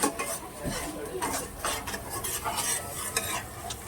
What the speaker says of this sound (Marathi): तेल सुटूस तर मस्त मसाला भाजून घेणार आहे